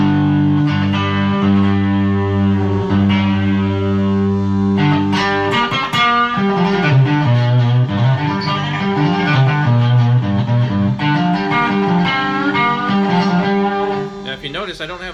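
A cigar box guitar played through a distortion effect set to about half, ringing chords and sustained buzzing notes followed by a run of bending single-note lines, loud and close throughout with no voices.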